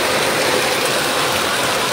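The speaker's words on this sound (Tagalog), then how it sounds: "Tuloy-tuloy pa rin yung ulan." Heavy typhoon rain during Typhoon Carina in San Martin, a dense, loud, unbroken hiss of downpour pounding surfaces with no letup.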